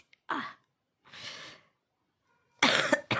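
A person ill with COVID coughs in three separate bursts, close and fairly loud, with breathy, rasping pauses of silence between them and no talking.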